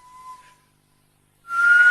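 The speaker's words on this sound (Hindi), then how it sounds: "तुम ये सीटी क्यों बजा रहे हो?" A steady whistle rings out clearly, then stops for about a second, and a second sustained whistle comes in louder and brighter near the end, over some hiss. No one talks.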